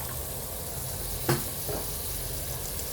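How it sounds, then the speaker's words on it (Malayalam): Chopped shallots frying in coconut oil in a pan, a close, steady sizzle with a single brief clink partway through. "ഇത്തിരി വെളിച്ചെണ്ണ ഒഴിച്ച് കൊടുക്കാം"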